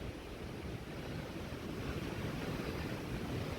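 Steady outdoor wind buffets the microphone during a break in a low-impact core workout, a continuous broadband rush and rumble with no talking, holding at a moderate level throughout.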